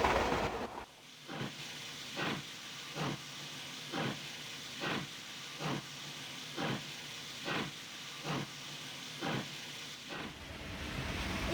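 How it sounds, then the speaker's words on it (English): A steam train in motion, its engine chuffing in a slow, even rhythm of about one puff per second over a continuous hiss, fairly faint and with no talking. "I dispatch the trains that carry them, sometimes to the right, sometimes to the left."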